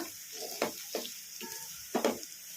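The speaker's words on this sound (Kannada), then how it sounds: "ಕ್ಯಾಪ್ಸಿಕಮ್ ಎಲ್ಲ ಫ್ರೈ ಆಗಿದಾವಲ್ಲ" Capsicum cooks in a pan as a soft, steady sizzle, broken by several sharper scraping bursts from stirring, close and moderately quiet.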